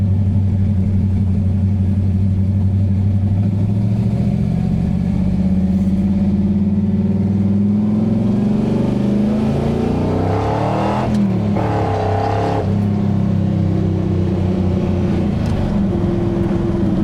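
A Plymouth Road Runner fitted with huge tires and a spool rumbles along at low speed, its engine droning steadily and loudly throughout with slight swells in revs.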